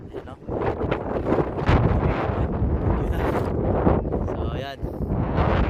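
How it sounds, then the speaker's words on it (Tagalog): Strong wind buffets the microphone at the sea ahead of a sandstorm, a loud continuous roaring rush with gusts, a brief voice heard beneath it. "Lakas ng hangin."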